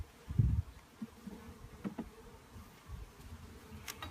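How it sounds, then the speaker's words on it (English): Honeybees buzz around an opened beehive on a warm day, a soft, droning hum close by, broken by a few low bumps and knocks as the hive is handled. "I want to keep our bees happy"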